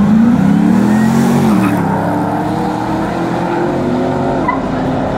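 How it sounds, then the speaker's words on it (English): A black Cadillac and a black Camaro race side by side, their engines roaring loud and close with rising, shifting engine tones and a brief squeal of tires. "Both of these cars are running."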